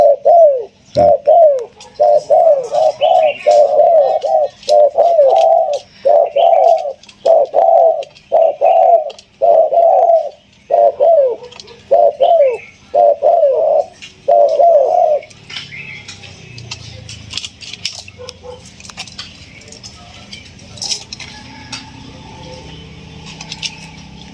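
Spotted doves, newly caught birds, give a rhythmic series of clear, loud coos in repeated phrases for about fifteen seconds, followed by quieter background sounds.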